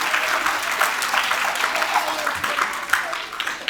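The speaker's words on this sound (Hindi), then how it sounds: "और एक बार ताली हम नए नीड के बच्चों के लिए बजाएंगे" An audience at a children's annual celebration in Meerut claps for the young performers, a sustained, fairly loud burst of applause with a voice faintly underneath.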